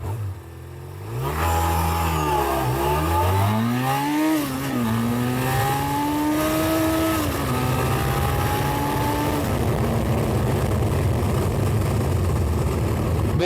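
A cheap motorcycle revs up from idle on a 0 to 100 km/h run and climbs through the gears, its pitch rising, dropping at each shift, then rising again as it pulls away loudly.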